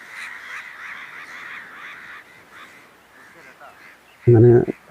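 A wild sea duck, an occasional visitor to Kerala, gives a run of nasal, harsh calls, with a sudden louder close burst near the end, while a voice talks over it.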